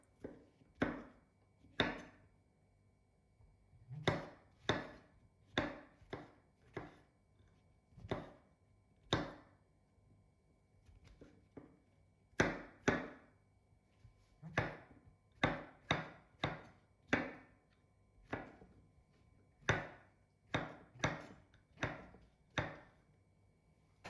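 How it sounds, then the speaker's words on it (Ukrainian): A knife slices through button mushrooms on a cutting board, delivering a series of crisp, separate cuts in uneven bursts, close and clear without talking. "Беру 300 г шампіньйонів та нарізаю їх"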